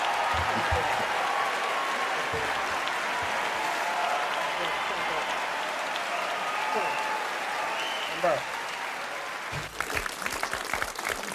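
Sustained applause from a crowd fills the room steadily for several seconds, then thins into scattered claps and noise near the end.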